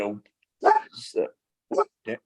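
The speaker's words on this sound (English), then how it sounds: "dog acting crazy" A dog barks in short, loud bursts, about four or five separate barks spread over a couple of seconds, close by during a casual drinking-and-chat podcast.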